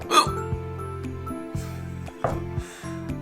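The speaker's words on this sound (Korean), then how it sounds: "아니 딸꾹질 이렇게 나와서 진짜" Several sharp hiccups break out at irregular intervals, close and distinct, over a low, steady hum.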